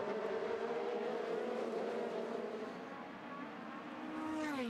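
An Indy Lights race car at Barber Motorsports Park screams past at high revs, its engine note steady and then dropping in pitch as it pulls away, moderately distant.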